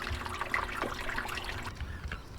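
Water trickling and splashing while a home-made gold sluice is cleaned out, a quiet continuous dribble with small splashes and light knocks, outdoors and close.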